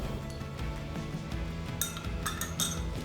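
A spoon stirs ground cordyceps powder in a glass of water, giving a few bright clinks against the glass near the end over a steady bed of background music.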